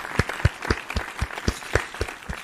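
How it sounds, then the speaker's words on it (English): A small group claps in steady, evenly spaced beats, light and moderately close, with no talking over it. "Round of applause."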